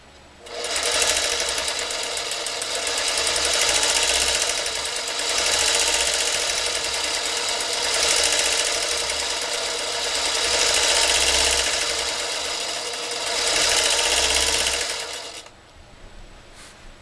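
A Singer Featherweight 221 sewing machine runs steadily for about fifteen seconds, its loudness rising and falling in waves, with a busy metal-to-metal clatter through the run before it stops.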